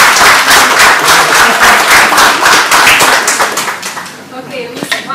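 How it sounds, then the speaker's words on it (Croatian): Audience applause at a Mediterranean film festival event, loud sustained clapping from a crowd that thins and fades toward the end, with a voice briefly audible. "molim da je date aplauz"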